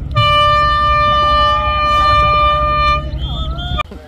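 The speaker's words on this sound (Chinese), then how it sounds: "鸣笛声响起" An air horn sounds for the start of a relay swim in which children around eight years old take on a crossing to Keelung Islet, a long, steady, loud blast of about four seconds over faint background voices and noise.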